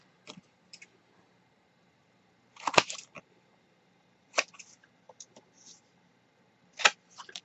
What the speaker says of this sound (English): So I'm going to go ahead and cut off an angle on my corner pockets.